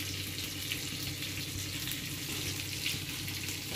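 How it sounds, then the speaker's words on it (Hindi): Tadka for dal sizzling in hot oil, a continuous close crackling hiss with a low background hum, steady throughout and no talk. "हम लगा रहे हैं दाल में तड़का"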